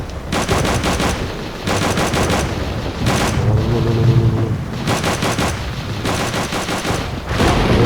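Rapid automatic gunfire bursts in the Call of Duty: Roads to Victory video game, loud and continuous with short pauses between volleys and a low rumbling tone mid-clip, no talk.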